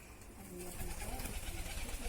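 Soft, low cooing from racing pigeons repeats in a steady rhythm beneath a voice talking nearby.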